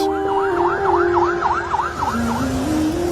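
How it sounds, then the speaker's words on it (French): Fire truck sirens wail on the tarmac at an airport plane crash site, a fast rising-falling yelp repeating rhythmically over a steady lower tone, loud and close with engine noise beneath. "Sur le tarmac de l'aéroport, les camions de pompiers arrivent par dizaines pour éteindre au plus vite l'incendie."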